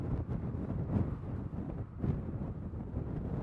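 Low, buffeting rumble of strong wind battering the microphone at the Christie Mountain wildfire, uneven gusts pulsing through a few seconds with no voices.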